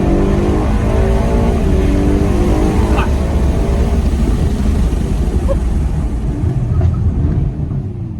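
A 2024 Aston Martin DB12 engine runs steadily with a deep, dense roar and mild revving throughout, loud and close, with no clear pauses or speech.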